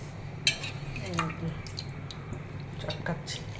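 Boiled taro being mashed in a pot, with soft wet squishes, a sharp clink of utensil against metal and light scraping, while a person talks nearby.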